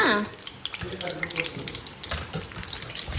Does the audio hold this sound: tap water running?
yes